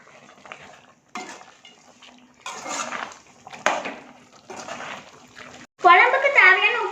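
Fish curry ingredients for a village-style dried anchovy (nethili karuvadu) kuzhambu being mixed in a pot, with intermittent clinks and scraping bursts of a spoon against the metal, close by, with a voice talking over part of it.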